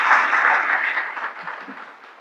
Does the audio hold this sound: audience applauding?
yes